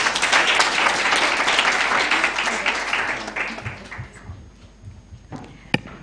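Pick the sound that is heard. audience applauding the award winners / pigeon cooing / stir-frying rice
audience applauding the award winners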